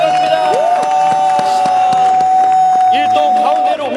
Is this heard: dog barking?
no